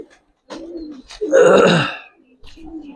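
Giribaz pigeons, young hens at a pigeon farm, coo up close in a few throaty bursts, one long loud rolling coo in the middle flanked by shorter softer ones.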